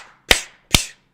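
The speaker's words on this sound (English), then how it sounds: "I just need you to clap. Let's clap in 3, 2, 1." Two sharp, close hand claps about half a second apart, used to sync recordings during a gaming podcast livestream, each a crisp snap with a short room tail and silence around them.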